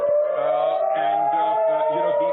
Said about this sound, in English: you can hear the air raid sirens going in